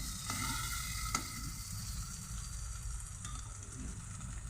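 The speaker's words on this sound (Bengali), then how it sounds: "এবার আমি একটু লাল লাল করে ভেজে নেব।" Food frying in a pan until it turns reddish, a steady dense sizzle throughout with a couple of faint stirring taps, close and uninterrupted by any voice.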